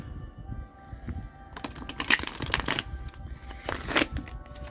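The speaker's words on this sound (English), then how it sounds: "We got one more shuffle." A deck of cards is riffled twice in quick, crisp bursts of fluttering snaps, close by, separated by quieter handling noise.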